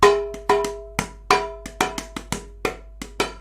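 Fingers tapping a hand drum, about a dozen crisp strikes in an uneven rhythm, some hits ringing with a bright tone, close up with no talking.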